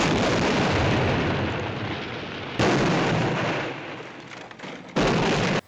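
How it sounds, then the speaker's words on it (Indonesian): Loud, sustained roaring blasts with abrupt onsets, one heavy mortar shell explosion after another rumbling across the whole band, with no voices, in a Vietcong mortar attack on a camp in the 1968 film The Green Berets. "camp diserang mortir Vietcong sebagai tindakan mengganggu"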